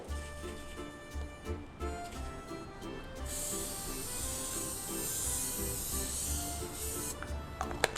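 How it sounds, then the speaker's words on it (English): A continuous spray of oil hisses for several seconds from an aerosol can onto a guitar sheet on a pastry tray, steady and close, starting and stopping abruptly over a faint background rhythm. "I will spray thin layers of oil"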